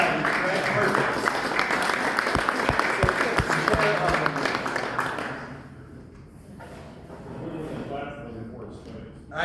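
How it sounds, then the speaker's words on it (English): Audience applause fills a magic show venue for about five seconds, a dense loud patter with a few sharp taps, then fades into quieter room noise and murmuring. "I'll take the applause."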